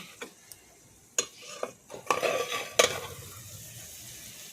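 Spiced masala for a soyabean curry with yoghurt stirred in hot oil in a pan, giving a soft steady sizzle broken by several sharp scrapes and clinks of the spoon against the pan.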